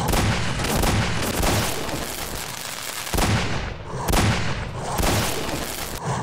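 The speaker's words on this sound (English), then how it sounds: "that explosion, that electrical effect" Electrical explosion effects from hitting enemies in the Stalker Narodnaya Solyanka video game, sharp crackling bursts arriving in irregular repeated volleys, loud and close, with brief gaps between them.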